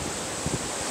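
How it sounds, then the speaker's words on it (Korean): Strong wind gusts roar steadily across a rainy valley campsite, a dense broadband rush with a couple of low buffeting swells, loud and close with no talking. "바람 겁나 불어 지금 갑자기."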